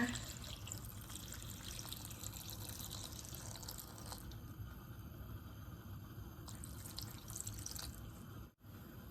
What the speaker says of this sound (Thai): เติมน้ำนะคะ